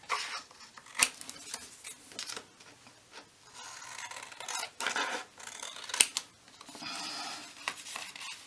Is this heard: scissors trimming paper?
yes